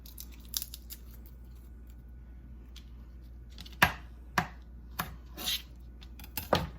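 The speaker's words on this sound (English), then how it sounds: "So you just flatten them with the fat part of your knife." Garlic cloves being flattened under the flat of a knife on a board while making Tuscan chicken, heard as a handful of sharp, separate crushing knocks and crackles, close and distinct with no talking.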